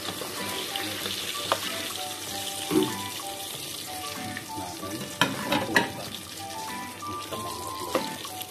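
Battered food frying in oil gives off a steady, close sizzle, with stirring and a few sharper crackles and pops through the middle and toward the end.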